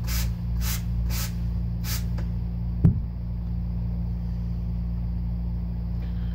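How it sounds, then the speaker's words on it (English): Quick bursts of spray from a spray bottle hiss several times in a row as pressurized water hits shaving soap, then a sharp thump and a steady low background hum. "it's actually a pressurized stream of water going into the soap"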